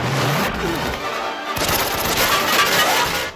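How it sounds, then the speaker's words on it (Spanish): Gunfire from a shootout scene in the film The Matrix, a dense, continuous burst of rapid shots and crashing impacts, loud and close, with no talk over it. "Pero Smith dispara y entre esos disparos le dan obviamente al cerrajero"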